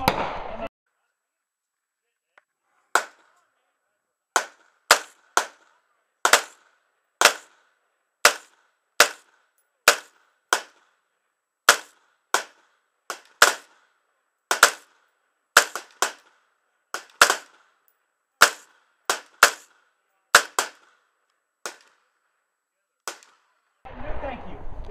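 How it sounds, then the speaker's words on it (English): An AR-15 rifle in 5.56 fires at a shooting range, about two dozen sharp, loud single shots at an uneven, fairly quick pace, with quiet gaps between them and brief noise at the start and end. "Danny's got the AR15 down there"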